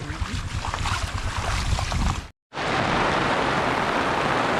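Heavy rain beating steadily and loudly on a rural hut during a rainy morning, a dense wash of noise with a brief dropout partway through.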